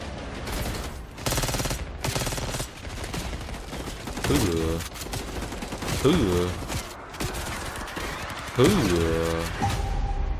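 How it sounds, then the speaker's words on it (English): A shotgun firing in the video game Call of Duty: Black Ops 6 campaign: heavy booming blasts spaced a second or two apart, mixed with other combat noise and a voice talking over it. "Shotgun putting in work."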